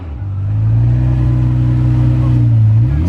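A Ferrari Testarossa rolls past outside a casino, its engine a loud, steady low drone that holds for a few seconds and rises slightly toward the end, close by.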